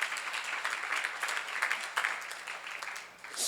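A church congregation at a Korean Bible seminary claps steadily together, a dense, even wash of applause that thins briefly near the end before swelling again.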